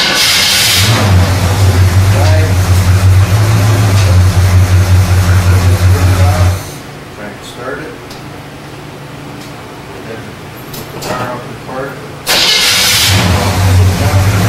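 A car engine cranks and fires up loudly during a drag racing safety inspection, running steadily before cutting off, then starting again near the end after a quieter stretch with faint background activity.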